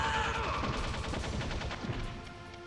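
Rapid bursts of gunfire in the Metal Gear Solid video game, a dense volley of sharp shots in quick succession that tails off toward the end, fairly quiet overall.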